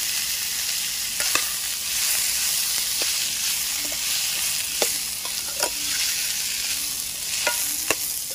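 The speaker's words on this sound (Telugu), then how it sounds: "ఒక చిన్న దోసకాయ ముక్క కొద్దిగా నూనెలో వేసుకోవాలి, ఫ్రై చేసుకోవాలి." Small cucumber pieces frying in a little oil, a continuous close sizzle with occasional sharp ticks and scrapes from stirring in the pan.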